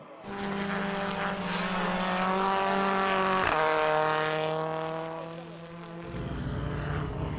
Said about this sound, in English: 5 laps on gravel tyres means plenty of sliding